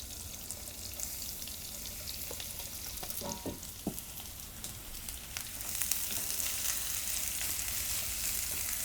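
Garlic and onion sizzle steadily in butter in a frying pan over medium heat, a constant crackling hiss that grows a little louder partway through, with a few faint clinks from stirring.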